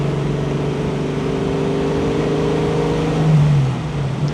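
A 1965 Mustang convertible with a 500 hp Boss 363 crate engine cruising in fifth gear, its steady, loud low exhaust drone holding even and rising slightly toward the end, heard from inside the car with no talking.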